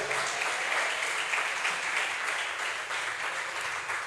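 Steady applause from a church congregation fills the whole stretch, dense and continuous at an even level, with no voices standing out.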